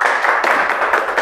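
A classroom audience applauds at the close of a group presentation, a dense burst of hand clapping that holds steady and fairly loud for just over a second.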